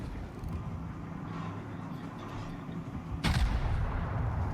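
A heavily armored battleship fires high-explosive shells in a World of Warships naval battle at Leyte Gulf; one heavy booming salvo cracks out near the end over a low, continuous rumble.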